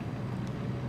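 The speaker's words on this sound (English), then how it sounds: "So when the door's off, it's the sound of the wind is what I was hearing." Wind rushes past the open doorway of a Rans S-6S light plane cruising along the Mississippi River in the MSFS 2024 flight simulator. It makes a steady, loud, low roar with no breaks.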